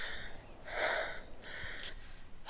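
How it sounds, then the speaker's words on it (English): Heavy, panting breaths of a character in the indie horror game Flash Frozen, set in freezing cold, come in a few rough bursts with a strong swell near the start, close and alone with no talk. "Heavy breathing."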